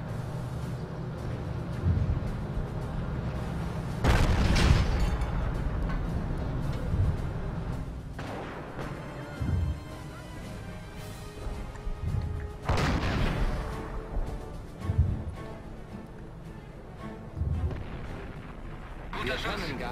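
Heavy booming artillery shots and explosions from Company of Heroes, several spaced blasts over a dense rumbling battle bed, with a voice talking between them.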